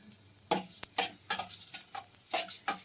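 Green chillies fry in hot oil with a busy crackling sizzle, punctuated by repeated scraping and stirring strokes against the pan, close and fairly loud throughout.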